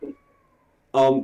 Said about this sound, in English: My cat's going nuts downstairs.